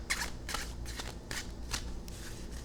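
A deck of cards being riffled and shuffled, several quick papery bursts in a row, close and fairly loud with no talking.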